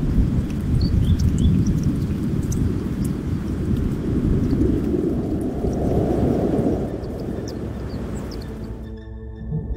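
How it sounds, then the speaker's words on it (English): Thunderstorm with rolling thunder, a heavy continuous low rumble sustained for several seconds over a wash of rain and wind, loud and close, fading out abruptly at the end. "Storms gather, like angry gods, unleashing their fury upon the land and sea."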